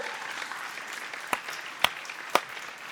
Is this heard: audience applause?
yes